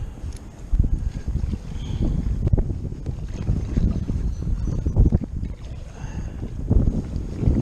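High wind buffeting a kayak while fishing, a rough, gusty rumble that stays loud throughout, with scattered knocks and splashes and no talking.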